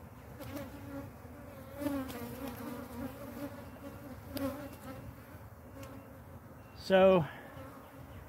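Steady buzzing of many honey bees at close range at a hive, with a brief louder buzz as one passes near; a voice speaks briefly.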